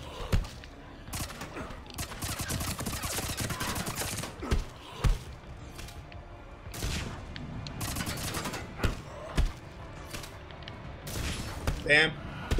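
Gunfire in a Mass Effect 3 firefight, sharp shots popping repeatedly in irregular bursts over a busy, noisy game mix, with a voice talking throughout.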